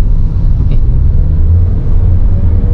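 A 2019 Toyota Rush TRD automatic kicking down to a lower gear, heard as a loud, steady low engine drone and road rumble from inside the cabin, with no speech.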